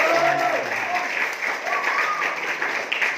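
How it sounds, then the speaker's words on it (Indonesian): An audience at an Islamic boarding school in Serang, Banten, claps for a few seconds, producing dense, steady applause with brief voices mixed in among the crowd. "Tepuk tangan buat Aan."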